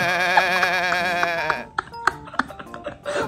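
A person imitates a goat with a long, wavering nasal bleat, followed by short sharp sounds and a brief laugh-like burst, close and fairly loud.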